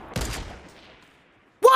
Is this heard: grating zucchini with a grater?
no